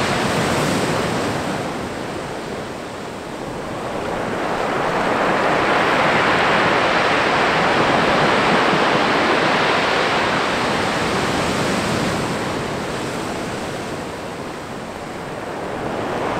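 Sea waves crashing at Crackington Haven and throwing up spray, a loud continuous roar of surf that swells and ebbs slowly, with wind buffeting the microphone.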